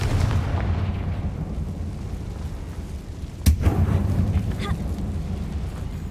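A spell-cast explosion in the Hogwarts Legacy video game: a single sharp boom bursts out midway over a steady rumbling game background.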